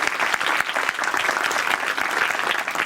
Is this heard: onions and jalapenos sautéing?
no